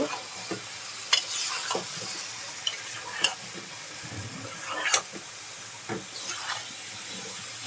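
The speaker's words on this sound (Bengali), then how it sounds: "এবার আমি ভাতানো চালগুলো দিয়ে দিচ্ছি ভালো করে নেড়ে নেব" Soaked rice gets stirred into fried spice paste with mustard paste in a hot pan, giving soft sizzling under repeated scraping strokes of a spoon, with sharp clicks now and then and no talk.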